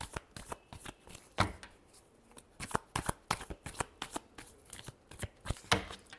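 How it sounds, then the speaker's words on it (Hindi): Tarot cards being shuffled by hand in a run of crisp riffling bursts and soft flutters, close and fairly quiet, with no voice over the shuffling. "Last shuffle."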